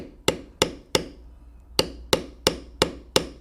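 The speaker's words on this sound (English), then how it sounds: "I'll start with the smooth beveler, and we'll first use that to bevel around the nose." A smooth beveler struck with a mallet while carving a bear head into leather, seven sharp, close wooden taps in a steady rhythm, split by a short pause after the third.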